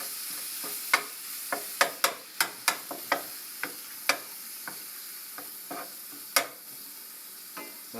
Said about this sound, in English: just going to crumble it up as it's getting cooked